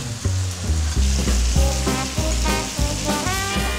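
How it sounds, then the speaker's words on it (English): Continuous crackling sizzle of rice cakes frying in a pan, with repeated soft stirring bumps and scrapes throughout, close and fairly loud. "Hear the lovely sizzling sound?"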